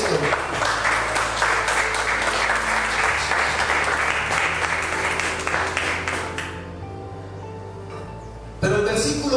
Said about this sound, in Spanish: ¿Cuánto le dan un aplauso al Señor Jesucristo?